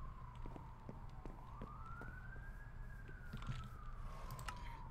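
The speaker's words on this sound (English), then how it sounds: "there's sirens outside" A distant siren wails in slow rising and falling sweeps over a low background rumble, fairly faint and steady throughout.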